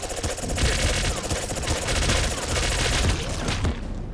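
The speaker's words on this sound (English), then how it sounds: "let's try this shank gun out" Rapid, dense automatic gunfire from the shank gun in the video game Nuclear Throne, a loud continuous burst of overlapping shots lasting several seconds.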